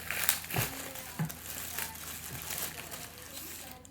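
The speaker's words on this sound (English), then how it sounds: "I usually take the plastic bag off here." Soft plastic bag crinkling and rustling close by as it is removed from a cauliflower, with a few sharper crackles early on, fairly quiet throughout.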